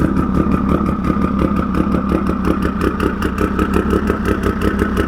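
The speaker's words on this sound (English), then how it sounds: "those cams typically have a very unstable and choppy idle" An engine with high-overlap cams idles roughly close up, its loping, uneven pulses repeating in a choppy rhythm under a steady mechanical rumble.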